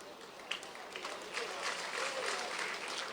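Applause from a crowd at a Barisan Nasional campaign machinery launch for the Slim by-election, a dense, steady wash of clapping rising after a sharp opening clap and holding at moderate loudness, with voices mixed in.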